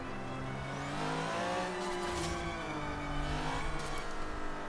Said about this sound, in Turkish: Bak şöyle size motor sesi dinleteyim abi.